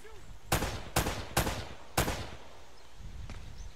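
Minigun fire in Uncharted: Drake's Fortune, heard as four loud, broad bursts in quick succession, each sharp onset trailing into a rattling decay, followed by a fainter distant shot over a steady game background.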